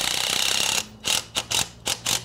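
A ratchet wrench tightening a bolt on a comfort swing frame gives a sustained buzzing spin, then five crisp back-and-forth clicking strokes in a quick, even rhythm, close up with no talking.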